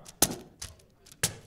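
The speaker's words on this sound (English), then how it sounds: "Listen to this thud." Cloth bags holding blocks of wood about the size of a deck of cards hit a surface in three sharp, close thuds spaced unevenly within a quiet room, with no talking.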